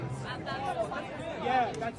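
Broad murmur of a big crowd at Suncorp Stadium, overlapping voices blending into a continuous hum that swells slightly toward the end.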